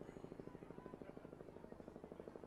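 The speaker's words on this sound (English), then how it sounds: "The helicopter flying over the field now as well." A helicopter passing over a women's college soccer field, its steady rapid rotor thumping beating rhythmically through the whole stretch at moderate distance, no talk heard.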